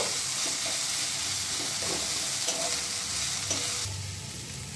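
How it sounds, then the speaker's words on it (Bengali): Spices (dried red chili paste and turmeric powder) being stirred and sautéed in a kadai for enchor chingri kofta, a steady close sizzle with soft scraping stirs throughout, no voices. "এবার সব মশলাগুলো ভালোভাবে মিশিয়ে একটু কষিয়ে নেব।"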